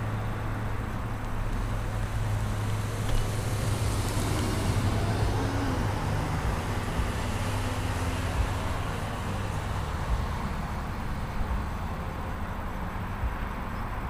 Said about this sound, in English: But there is a car coming, so I'll get the next cycle.